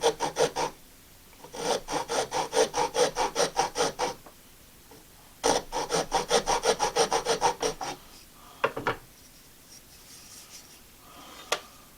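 A rasp scrapes a rough-cut wooden Navajo spindle whorl in two quick rhythmic bursts of close, dry strokes, each lasting a couple of seconds, followed by a few isolated scrapes.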